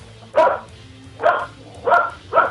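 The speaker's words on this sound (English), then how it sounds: "Excuse my dog. Don't worry about it." A pet dog in a home yard barks four times in a spaced rhythm, each bark loud and close against a quiet background.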